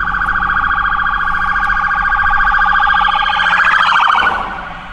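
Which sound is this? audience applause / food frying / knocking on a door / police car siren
police car siren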